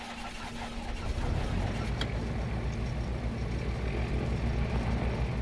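A twin-engine Aerostar 601P aircraft engine in the X-Plane 12 simulator cranks and catches, swelling after about a second into a steady low rumble that holds close and even to the end.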